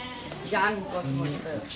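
A goat bleats at a farm animal pen at Amphawa floating market, a wavering cry standing out over nearby people talking.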